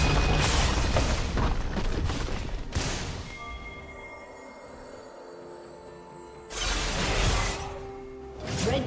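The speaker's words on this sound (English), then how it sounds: "Red Team's turret has been destroyed." A defensive turret is destroyed in a League of Legends match, giving loud crashing, shattering bursts at the start and again near the end, separated by a quieter stretch of game sounds.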